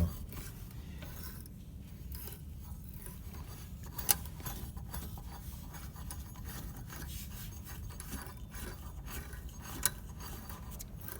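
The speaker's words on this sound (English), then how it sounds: "it's kind of clunky, but it works, and the dial's moving" The tuning dial mechanism of an old 75-year-old Zenith radio moves with a quiet, continuous clunky rasping and gear scraping, broken by two faint clicks.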